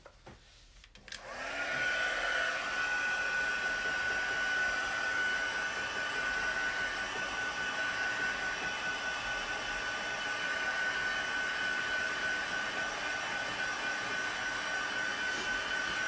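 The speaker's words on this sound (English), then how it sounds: "So let's get the heat gun one more time." A heat gun blows hot air to dry a homemade wreath, switching on after a brief quiet moment and then running as a steady, close, whirring hiss with a thin high whine for the rest of the clip.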